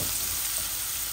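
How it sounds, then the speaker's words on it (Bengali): Carrot pieces sizzle in a hot pan while chicken chow mein is being made, giving a dense, even frying hiss up close with no pauses. "এই গাজরটা একটু ভাজা ভাজা হয়ে যাক"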